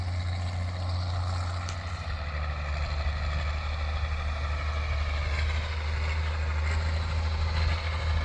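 Old hay tractor engine running on a farm, a steady low diesel rumble idling evenly at moderate distance, no voices.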